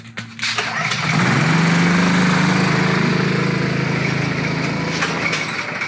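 A go-kart engine starts and revs hard as the gas pedal is pushed fully down, a loud, steady buzzing drone held close by.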